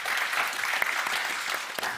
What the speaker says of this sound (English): So again, one round of applause, please, if we can.